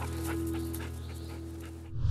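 Belle, a bird dog out on a quail hunt, pants steadily and rhythmically at close range while a low steady hum runs underneath, and a brief rustle comes at the end.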